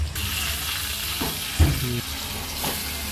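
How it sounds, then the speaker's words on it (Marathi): A whole fish sizzles in hot oil in a large pan, a steady close crackle with a couple of soft clatters of a utensil against the pan, no voices. "किती मस्त मासा फ्राय होतो."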